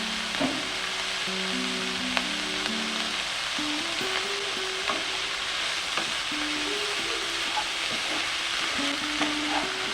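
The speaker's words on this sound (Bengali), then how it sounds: "গ্যাসের জালটা মিডিয়াম রেখে আমরা ভেজে নেব কাঁচা লঙ্কা কুচি" Chopped green chillies frying over a medium gas flame, a dense, even sizzle running steadily throughout, close up, with faint tonal hum in the background and no speech.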